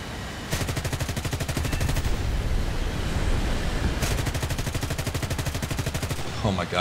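Fighter jet machine guns firing in War Thunder, rapid evenly spaced rounds in two long bursts over a steady engine roar, loud and close.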